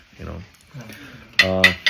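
Dishes and cutlery clink and clatter at a meal in an Afghan village, a few sharp bright knocks after quieter handling sounds, close by.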